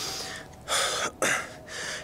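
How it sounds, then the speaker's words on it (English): Heavy breathing after exertion during soccer fitness training, three loud, close, breathy gasps in a row with short gaps, alone with no talk. "See, I'm out of breath."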